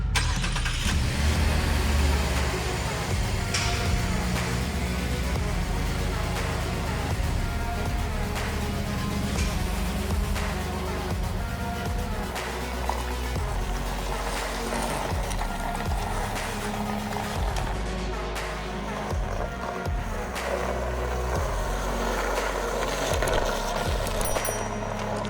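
A 2022 Chevrolet Colorado ZR2 Bison AEV with front and rear lockers driving off-road through snow, with a continuous engine drone, mechanical clunks and rattles, and crunching over uneven ground throughout.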